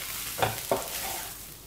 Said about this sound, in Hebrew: עוד דקה של טיגון הבצל עם התבלינים